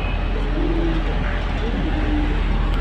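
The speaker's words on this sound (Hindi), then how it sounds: "हमारे वॉशरूम के खिड़की से देखो कबूतर, उसने बच्चे दिए हैं इस साइड पे" Soft, low coos from a nesting pigeon at a bathroom window repeat a few times close by, set against a steady background rumble of outdoor noise.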